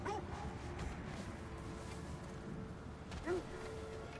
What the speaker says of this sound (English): They have the dog spawn over here now.